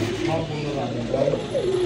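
A pair of pigeons coo in low, throaty warbles close by, repeating over a continuous rumbling background.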